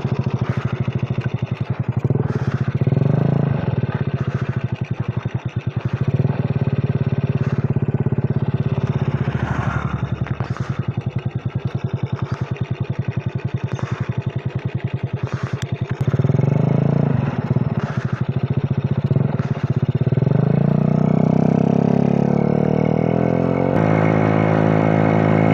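A Yamaha Jupiter Z motorcycle with an Austin Racing exhaust runs loud and close, its engine idling with a rough, throbbing burble and rising into revs a few times before settling again.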